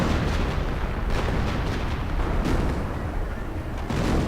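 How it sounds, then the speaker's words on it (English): A dense artillery barrage in a World War II video game, with continuous loud booms and overlapping blasts merging into an unbroken roar for several seconds. "And some artillery being called in right here."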